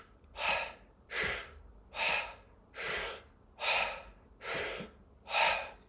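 A person breathes rapidly and forcefully through the mouth, seven evenly spaced, loud, close breath bursts in a steady rhythm, each a full deep inhale with a quick release, with short quiet gaps between them.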